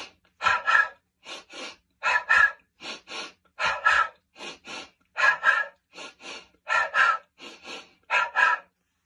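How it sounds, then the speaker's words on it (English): Quick, forceful breathing exercise done six times, sharp snorting in-breaths through the nose alternating with voiced out-breaths, close and loud in a regular pulsing rhythm with short silences between. "To do that 6 times with an in-breath quickly, like you're snorting in, and then sound, breathing out"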